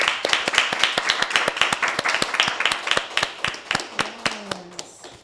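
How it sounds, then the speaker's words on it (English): A small audience at a panel discussion on women building communities claps for itself, sharp distinct claps in a quick loose rhythm that thin out and fade toward the end, with a brief voice near the close. "Can we clap for ourselves?"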